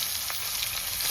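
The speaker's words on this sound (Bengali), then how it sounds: "তেলের মধ্যে দুটো শুকনো লঙ্কা দিয়ে দিচ্ছি ফোড়নে, সঙ্গে তেজপাতা আর জিরে" Dried red chilies, bay leaf and cumin sizzle in hot oil as a dense, steady hiss close by, with a few faint pops and crackles rising through it.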